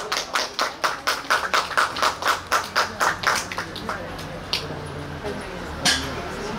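A crowd at an outdoor anniversary party in Yangmei claps to welcome a dance troupe's next performance. The claps come in a steady, quick rhythm for about four seconds, then thin out into a few scattered claps and background noise.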